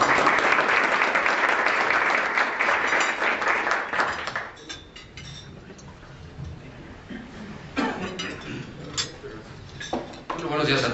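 Applause from a conference audience, loud and sustained at first, then thinning into scattered claps that fade toward the end.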